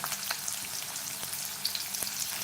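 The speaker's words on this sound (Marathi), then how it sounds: "बारीक चिरलेला कांदा घालूया" Finely chopped onion frying in a pan of hot oil, a soft, steady sizzle with scattered small pops and crackles, close but quiet, with no voices.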